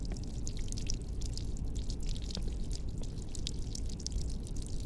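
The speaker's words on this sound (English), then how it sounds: "How is water coming out" Water drips and trickles in a quiet scene aboard a Shinkansen train in a video game, with soft repeated droplet taps over a low background hum.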